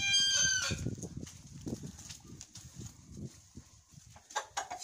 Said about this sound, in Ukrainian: Ось курочка одна, єдина на дворі.